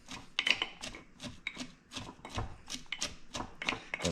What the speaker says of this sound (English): Suggest to take a wooden spoon and just pack it in.